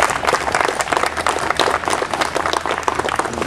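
An audience at a press conference after a Riverkeeper speaker at a nuclear regulatory meeting claps steadily, a dense, loud, sustained round of applause with no voices over it.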